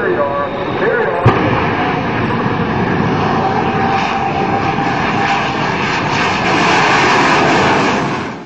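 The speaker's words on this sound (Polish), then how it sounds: "Shockwave z małą pomocą napędu odrzutowego potrafi jechać szybkością 605" Loud, continuous jet roar from the Shockwave jet-powered truck engine, a steady broadband blast that swells slightly toward the end, with a brief sharp click near the start.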